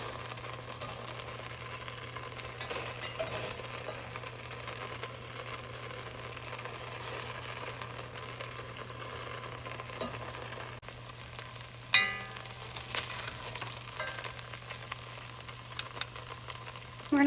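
Beef for stew browning in a hot pan, a quiet, steady sizzle and fry with occasional stirring scrapes and a sharp clack partway through.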